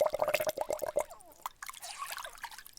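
Water dripping and splashing as someone washes up in a radio drama, a run of quick bright drips near the mic followed by softer trickling and sloshing, close and moderately loud with no talk.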